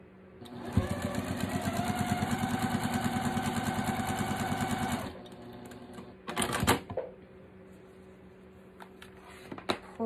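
A sewing machine stitches quilt fabric cut on the bias in a fast, steady whirring run of about four seconds, then stops, followed by a few handling clatters and quiet room sound.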